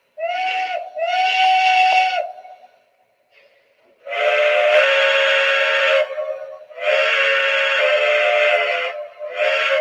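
A model train whistle sounds a series of eerie banshee-style wails, several long loud blasts with short gaps and a pause partway through, close and alone.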